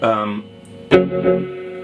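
Electric guitar through a Catalinbread Adineko oil can delay pedal with reverb off and viscosity turned down: a sustained chord fading into soft repeats, then a sharp pick attack whose echoes ring and decay close up.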